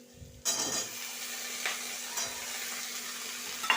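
Steady sizzle of onions and potatoes frying in a pan, with a few soft stirring scrapes, close by and continuous after a brief quiet start.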